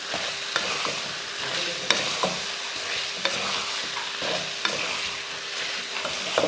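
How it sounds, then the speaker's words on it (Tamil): Fried chicken being stirred into masala in a hot pan, continuous soft sizzling with a scrape of the spoon every second or so, close and steady with no voices. "சிக்கன் சேர்த்துட்டு நல்லா கலந்துருவோம்."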